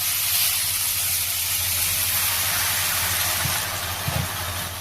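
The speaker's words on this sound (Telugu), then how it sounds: "ఆయిల్ కొంచెం హీట్ అయిన తర్వాత మనం ఇలా కడిగి పెట్టుకున్న గోంగూర కొంచెం వేసుకోవాలి" Washed gongura leaves dropped into heated oil in a pan for gongura chicken, giving a loud, continuous hissing sizzle that holds steady throughout with a couple of low knocks near the end.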